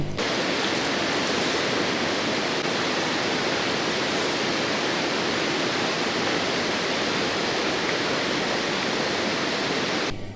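The flooded Bharathapuzha river rushes in spate near a bridge, a loud unbroken roar of churning water that holds steady from start to finish with no voices.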